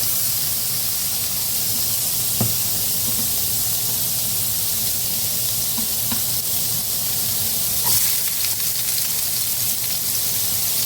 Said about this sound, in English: now I'm going to throw in the onions now that this pan is hot